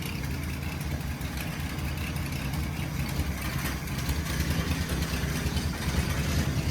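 A 1937 Nash car engine idles steadily nearby, a continuous low rumble with a faint mechanical clatter that holds an even level throughout, with no talking.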